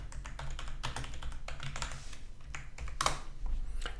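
Rapid typing on a computer keyboard while code is entered in a game engine editor, a dense, continuous run of close clicks with one sharper keystroke midway.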